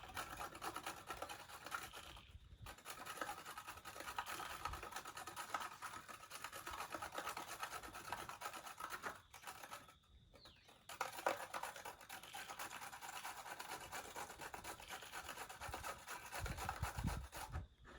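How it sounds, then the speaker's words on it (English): A carrot is rubbed against a grater for homemade lasagna, a continuous close rasping scrape in long strokes with two brief pauses, fairly quiet, with no talking. "Just putting a bit of carrot in, just grate it up."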